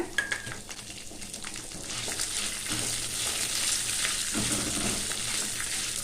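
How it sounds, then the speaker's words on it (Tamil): Urad dal, tamarind and garlic frying in a pan, a steady soft sizzle with occasional stirring scrapes, close and continuous with no talk. "உளுந்தம்பருப்பை சேர்த்து நல்லா வறுத்துக்கலாங்க"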